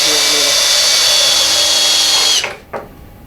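A power drill drives a screw into a metal storage cabinet with a loud, steady whine that holds for a couple of seconds, then stops abruptly, followed by a brief second burst.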